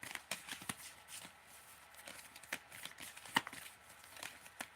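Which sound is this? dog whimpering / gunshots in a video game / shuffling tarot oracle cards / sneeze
shuffling tarot oracle cards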